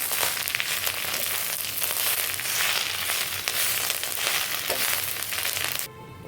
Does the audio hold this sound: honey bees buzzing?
no